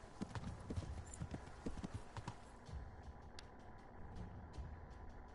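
Steady hoof clip-clops from a horse at a walking pace in the video game Kingdom Come: Deliverance II, moderately close, over a low rumbling background.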